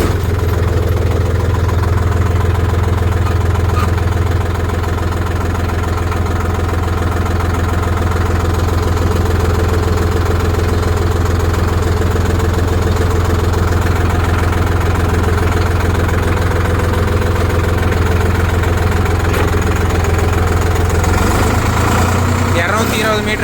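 A Sonalika Tiger 50 creeper tractor engine idles close by with a loud, steady, low diesel throb and some vibration, and the pitch shifts slightly near the end.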